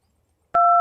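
A push-button telephone dials out, a dual-tone keypad beep starting abruptly after a short silence and holding steady and clear near the end.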